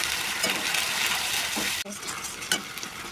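Tomato paste hits a hot pan and sizzles steadily, with a few scraping stirs, then a brief drop and a softer continued sizzle, close and alone.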